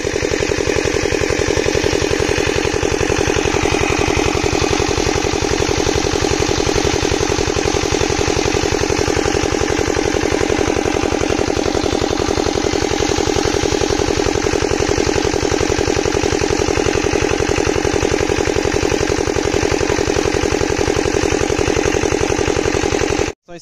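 A Topland 5 HP water pump engine runs over a borewell in hot-season conditions, a loud, continuous rapid chugging drone that holds steady and close throughout.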